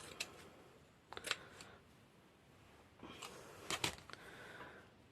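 Scissors snip through a piece of netting for a pastel goth junk journal, two quiet clusters of crisp cutting sounds separated by a soft pause, close and alone with no talk.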